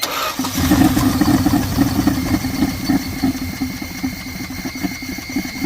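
A 1979 Dodge engine idles steadily after sitting unused for years, a loud, continuous mid-pitched rumble with a slightly uneven pulse, heard up close with no talking.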